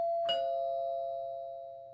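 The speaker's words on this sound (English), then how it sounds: "They heard the sound of the doorbell ringing from the other room." A doorbell gives a single ding as it is pressed, then a long, clear ringing tone slowly fades away, heard alone in a quiet indoor setting.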